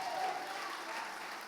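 A church congregation claps together in a sustained, even burst of applause that sounds somewhat distant and soft, with no speech over it.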